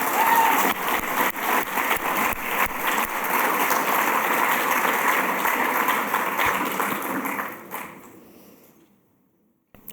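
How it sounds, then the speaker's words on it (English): Audience applause at an awards ceremony honoring activists fighting child trafficking. A thick wash of claps with some louder hits holds for several seconds, then fades out into near silence. "One more round of applause, please."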